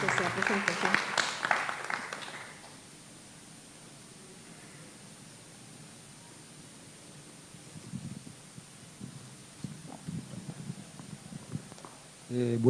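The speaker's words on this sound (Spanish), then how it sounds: "los asistentes los recibimos con un aplauso a nuestro ponente" Conference attendees at a panel on innovation and productive transformation give a brief round of applause that fades after about two seconds, followed by near-silence and then a voice speaking.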